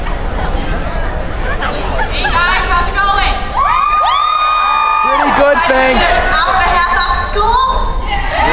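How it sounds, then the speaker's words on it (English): At a 2011 high school talent show, the audience cheers and screams loudly, with high shrieks and whoops swelling in a crowd roar that holds steady throughout. "Let me hear you scream!"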